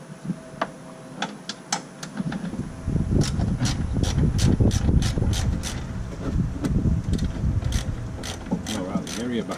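A ratchet clicks quickly and repeatedly up close while undoing a 10mm fastener on a Land Rover Defender during a coolant tank install, the steady mechanical clatter building over metallic rattling.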